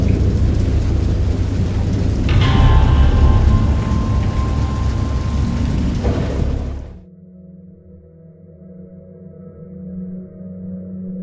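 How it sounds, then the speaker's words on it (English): Loud, steady video game downpour with rumbling thunder rolling underneath, then the storm cuts off abruptly, leaving a quieter low hum with a faint tonal drone. "I have indistinct recollections of a great storm sometime after I reached the boat."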